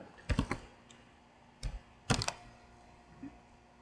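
A computer keyboard is typed on in short, close bursts of rapid clicking, three clusters separated by pauses in a quiet room.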